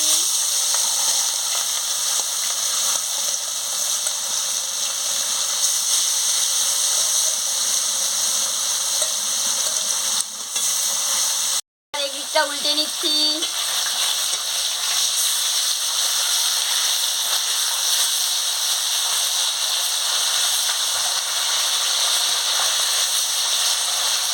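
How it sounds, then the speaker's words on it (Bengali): Silver carp dropped into hot oil in a wok gives a steady, loud hiss and sizzle that fills the clip, broken by a brief dropout near the middle, then carries on with some clatter and a few faint tonal sounds. "এবারে কড়া গরম হয়ে গেছে আমি তেলটা দিয়ে দিচ্ছি গরম হয়ে গেছে আমি মাছটা ছেড়ে দিচ্ছি"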